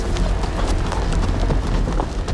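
Horse hooves clip-clop in the Game of Thrones video game: a steady run of quick, loud hoofbeats that stays close and continuous, with no talking over it.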